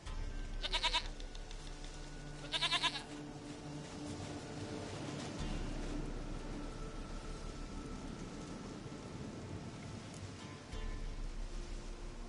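A goat in the video game The Witcher 3 gives two short bleats near the start over a steady rain-like background hiss that continues afterward.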